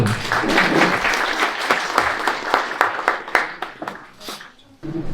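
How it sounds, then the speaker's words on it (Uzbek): Audience applause breaks out at a bookshop opening ceremony, a dense burst of clapping with sharp individual claps standing out that thins and fades toward the end. "Qarsaklar."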